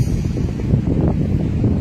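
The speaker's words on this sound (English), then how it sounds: "It is very, very windy here." Strong wind near the Mediterranean Sea buffets the microphone in a steady, loud, low rumble with no pauses and no talking.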